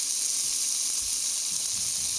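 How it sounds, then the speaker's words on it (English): A beef strip steak, turned onto its edge, sears in a hot pan with a steady, close, continuous sizzle that never lets up, and no one speaks. "This is just cooking the edge of the meat now."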